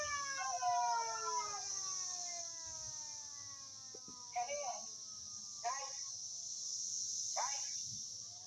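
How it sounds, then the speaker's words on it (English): Distant outdoor sirens wail with slowly falling pitch beneath a constant high buzz of cicadas, while a nearby voice speaks in brief bursts. "Uh-oh, we got sirens going off."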